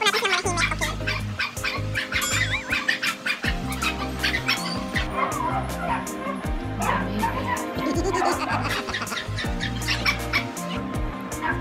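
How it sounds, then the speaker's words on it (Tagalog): A puppy and a large dog bark repeatedly over a dense, continuous background of music-like tones, with higher yips mixed among deeper barks; birds chirp faintly at times. "May tuta, may malaking aso."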